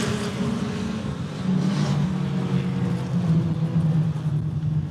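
Race cars in a feature race at I-94 Raceway roar past in a steady, loud, continuous engine drone that swells slightly partway through, with no voices.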